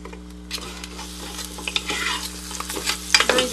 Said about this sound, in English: I'm just going to toss it in and saute it around.